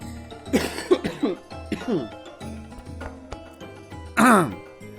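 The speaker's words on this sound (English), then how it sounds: "Why is my coughing so bad all of a sudden?" A person coughs in several harsh bursts, close up, with a longer, louder fit near the end and quieter gaps between.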